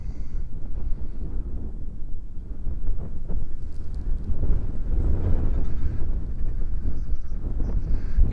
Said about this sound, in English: when it's very windy like it is